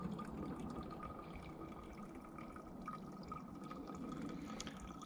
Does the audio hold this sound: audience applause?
no